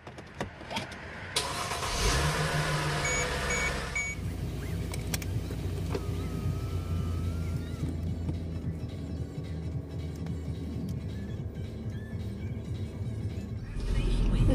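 A car is started and taken out of a home garage: the engine turns over and settles into a steady close idle and low hum that runs for over ten seconds, with brief mechanical clicks and faint background speech.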